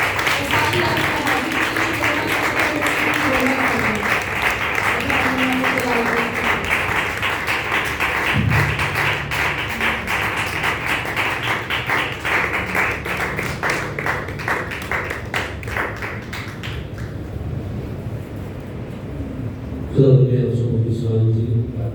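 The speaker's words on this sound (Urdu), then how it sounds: "خدا کے زندہ کلام کو ویلکم کرتے ہیں اپنی زوردار تالیوں کے ساتھ" A congregation at a Sunday morning church service claps vigorously for a long stretch, the dense applause carrying on for about seventeen seconds before dying down, with a voice then speaking over the hall.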